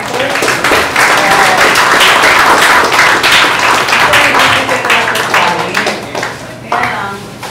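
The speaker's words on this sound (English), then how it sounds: "we like to give a round of applause to the organizers" A large audience at a university onboarding event applauds the organizers, loud dense clapping filling the room and tapering slightly toward the end, with no voices over it.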